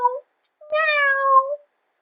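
A narrator's voice imitates a cat meowing from inside a sack in an audiobook, giving a short squeak followed by a longer, drawn-out, clear meow with silence around it.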